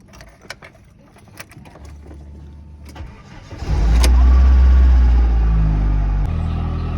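A 1991 Saturn SL2 engine cranks and catches after a few seconds of faint clicks, then settles into a loud, close, rumbling idle that begins to sag as the revs drop.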